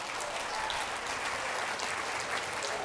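Audience at a women business leaders forum applauding, a steady dense wash of clapping hands sustained throughout at moderate distance, with no talk over it.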